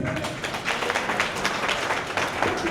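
An audience at a Ghana Football Association ordinary congress claps after an oath of office is sworn, producing a dense, continuous wash of applause at an even level for a few seconds, with faint voices mixed in.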